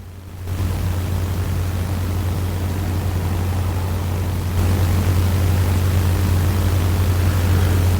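Helicopter flying overhead at night: a continuous broadband rotor and engine roar with a steady low hum, loud and unchanging, swelling slightly midway, with no voices.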